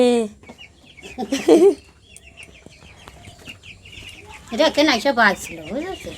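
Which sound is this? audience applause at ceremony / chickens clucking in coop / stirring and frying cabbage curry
chickens clucking in coop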